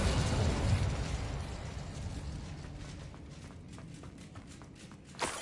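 An Incendio fire spell cast in Hogwarts Legacy, a whooshing burst that fades into a low rumble, with a sharp pop near the end.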